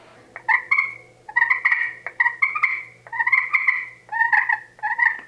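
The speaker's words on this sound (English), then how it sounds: "you can take a slate call like this one right here. I'll rough this surface up a little bit, and you can get these little clucks on the slate call" Series of short, raspy turkey clucks and yelps scratched out on a roughened slate turkey call, about six bursts in uneven rhythm, close and clear against a quiet background.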